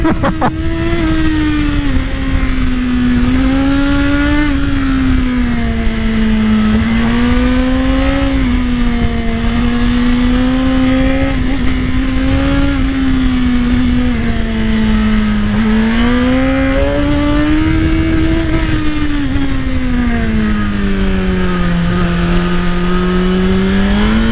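A Suzuki GSX-R 1000 sport motorcycle fitted with exhaust baffles accelerates hard, its engine note rising and falling through gears in a loud, continuous close-up drone, with faint speech underneath.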